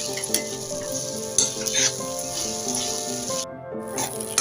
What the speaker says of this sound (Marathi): खूप वेळ लागतो याला भाजायला, सतत त्याला ढवळत राहायचं असतं।